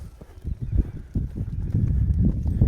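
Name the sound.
horse hoofbeats while loping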